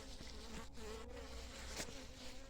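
A honey bee swarm buzzes around a beehive, a faint, close, continuous droning hum with wavering pitch as individual bees pass near, steady with no voices.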